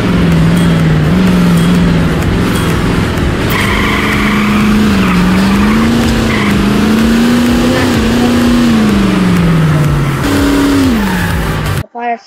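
In the racing video game Nitro Nation, a car engine revs and whines loudly and continuously, its pitch rising and falling as it shifts, then cuts off abruptly at the end.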